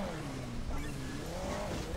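A motorcycle engine in the mobile game Hill Climb Racing 2 drones steadily with a wavering pitch as the bike climbs, moderately loud and continuous over low background noise.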